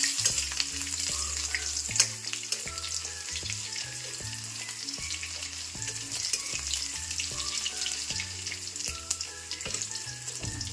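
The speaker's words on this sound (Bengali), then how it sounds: "রসুনগুলো একটু নেড়ে নিচ্ছি" Garlic sizzles in a pan as it is stirred, a continuous near frying hiss with regular clinks and scrapes of the spoon, alone without talk.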